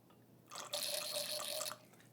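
Red wine, an H3 Merlot, pours through a narrow aerator tube, drawing in air with a steady, close bubbling hiss and gurgle that swells suddenly and runs for about a second before stopping.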